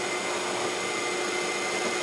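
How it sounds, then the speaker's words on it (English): A drill boring a hole during a machinist's job making dials for a compound slide table, a steady broadband whir running close and continuous through the whole short stretch with no talk. "Drill a hole."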